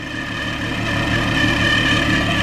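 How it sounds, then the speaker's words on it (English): On a 2004 Volkswagen R32, the power steering pump whines steadily as a high, sustained tone over the idle of the 3.2-liter VR6 engine, even and continuous, with no one talking. "The noise you're hearing is the power steering pump singing away."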